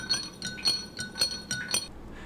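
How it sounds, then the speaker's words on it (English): A spoon stirs food coloring into a glass of water, clinking against the glass in a steady rhythm of about six bright taps, close and clear. "add a few drops of food coloring, and give it a good stir."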